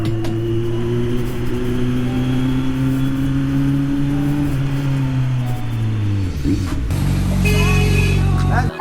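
A Kawasaki Z900 motorcycle fitted with an SC Project CR-T exhaust roars past in a loud flyby, its steady engine drone dropping sharply in pitch as it passes, then revving back up afterward.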